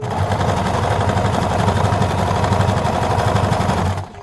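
Sewing machine running continuously while stitching fringe onto a purple garment at tension 3 with a zigzag width of 4 to 5 and a length of 2, a loud, close, rapid mechanical whir that stops abruptly at the end.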